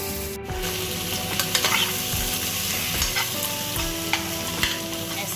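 Boiled potatoes tipped into a pan of fried onions and stirred, giving a steady close sizzle of frying with repeated scraping strokes of a spatula throughout.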